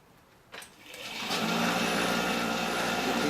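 A grinding wheel spins up from quiet and then runs steadily as it removes burrs from a metal bolt for a Vierbike Quadra Sprint, giving a sustained close, high whine and grinding roar.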